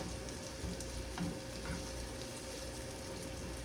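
Onions sizzling and frying steadily in a pan, a continuous close crackle with faint stirring scrapes and no talk.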